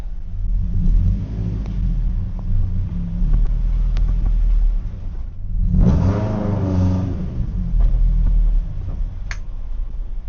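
A car freshly fitted with a new gearbox and an extreme heavy-duty organic clutch drives along, a loud, steady engine drone heard close up that surges into a rising rev partway through before settling again.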